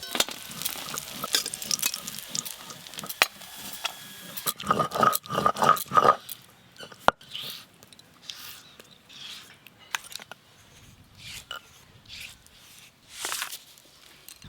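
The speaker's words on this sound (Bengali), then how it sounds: "এই মাছগুলো ভাজা হয়ে গেল, তুলে নেব এবার" Fish fry in oil, crackling and sizzling steadily in a pan, with scraping and stirring clatter over it and bursts of louder spattering early on.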